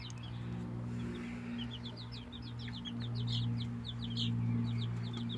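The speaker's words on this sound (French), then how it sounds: "Ma petite poule négrossois là" A Negrossois hen gives a run of short, high clucking chirps, close by and fairly steady in rhythm, over a constant low hum with no talking.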